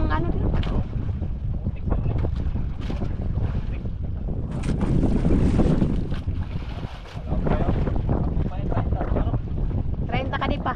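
Strong wind buffets a boat at sea in deep water, with loud, steady gusting rumble and water noise throughout and people talking over it.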